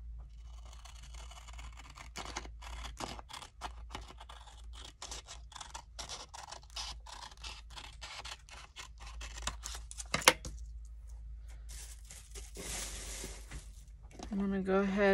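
Scissors trimming a white edge off a sheet of craft paper, a run of quick crisp snips and papery scrapes close up, with some rustling toward the end.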